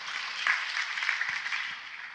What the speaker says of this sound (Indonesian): Beri tepuk tangan untuk kebenaran ini saudaraku.